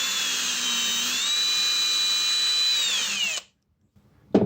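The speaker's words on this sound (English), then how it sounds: "so that the holes will line up once it's drilled" A power drill whines loud and steady through a plate on a cigar box guitar for about three seconds, its pitch shifting slightly under load before it stops abruptly, followed by a short clunk.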